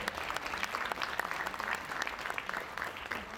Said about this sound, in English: Ladies and gentlemen, a warm round of applause for Ming Ren.